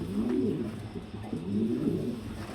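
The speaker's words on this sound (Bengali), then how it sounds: "একটু লড়া দিই কবুতরটা" A farm pigeon coos close by in low, rolling phrases that repeat several times over quiet background.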